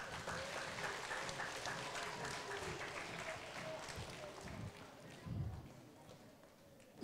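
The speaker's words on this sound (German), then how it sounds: "Ein Applaus für Leonard" Children in a university lecture hall at a Kinder-Uni robot talk clap for a young presenter, a fairly distant, continuous patter of applause with some murmuring and a brief thump near the end.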